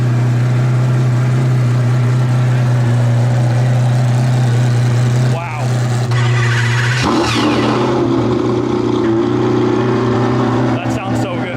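Koenigsegg Regera engine idling with a deep, steady drone, then revving hard into a sharp rise and settling back to a loud, resonant idle; people talk and react over it.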